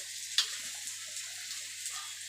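Oil sizzles steadily as a thalipeeth flatbread fries on a pan, a soft continuous hiss with one brief sharp crackle early on.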